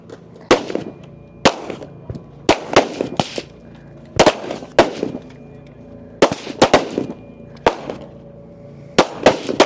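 Rifle shots ring out at a women's elite stage of a regional shooting competition, sharp loud cracks spaced irregularly, some in quick pairs, about fifteen reports over ten seconds with brief echoing tails.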